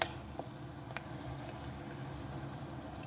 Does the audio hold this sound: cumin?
yes